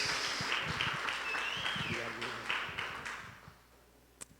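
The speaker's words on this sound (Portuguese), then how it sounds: "Aplauda Jesus pela vida do nosso pastor" A church congregation applauding, a broad wash of clapping that holds steady and then thins out and fades, with voices talking over it.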